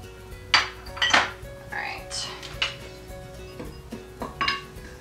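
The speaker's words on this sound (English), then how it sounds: "we are going to mix it with the vegetable oil in a small bowl" A spoon scrapes and clinks in a small bowl as spice is mixed with vegetable oil for a Korean soft tofu stew, several bright taps and scrapes spaced irregularly against a faint background hum, close by.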